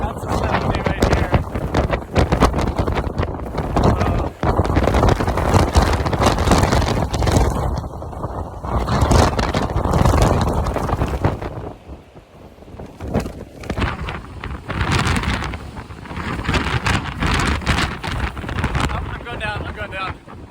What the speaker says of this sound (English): It is a mild tropical smelling wind.